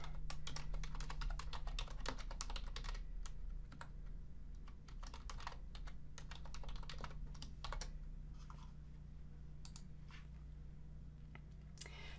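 Computer keyboard typing, a quick run of close, light key clicks in bursts over a low steady hum, with no talking.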